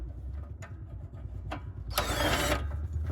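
Hand tools working on a car's muffler crossbar, sharp metallic clicks and taps, then a brief scraping ratchet-like burst, all over a low steady engine-like drone nearby.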